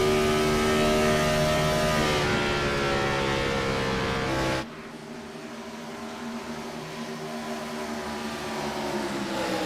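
Race cars in a racing video game at Michigan drone steadily around the track, a loud engine whine that drops off sharply partway through, leaving a quieter continuing engine hum with no talk.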